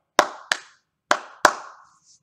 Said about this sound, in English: Let's try clapping this time.